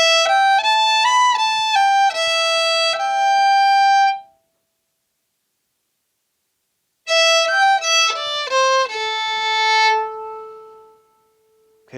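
Old-time fiddle plays the opening phrase of the second half of the A part of Yew Piney Mountain, a lively run of bowed notes up close, breaking off into a silent gap before a second phrase resumes and fades on a held note.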